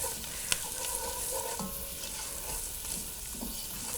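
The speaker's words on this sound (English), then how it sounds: "And just stir that around. Let that cook with the onions." Onions and dried oregano stirred in a pot, a steady close soft sizzle of frying with a spoon scraping now and then and one sharp clack near the start.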